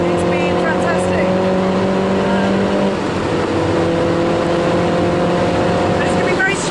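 Loud engine of a 600PS Jaguar Project 8 sports car on a race track, a sustained tonal roar that shifts pitch partway as it changes gear, with voices faintly present.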